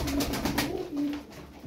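Close, soft cooing of pigeons, a few low throaty calls in a row with a brief pause, no talking.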